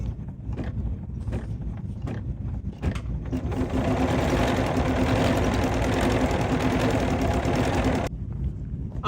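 Bernina 990 sewing machine stitching quilted fabric: a steady, fast mechanical whirring hum that runs for several seconds, close and even, preceded and followed by a few light clicks.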